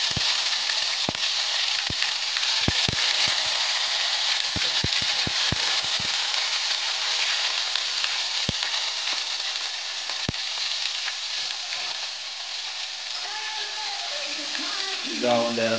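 Ginger garlic paste frying in a little oil in a pan for cabbage Gobi Manchurian gives a steady, close sizzle dotted with sharp crackles and pops throughout, with a faint voice near the end.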